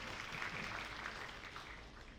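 Audience applause at the opening of a public seminar on procurement transparency, a dense, steady patter of many hands clapping throughout at moderate level, with no talk over it.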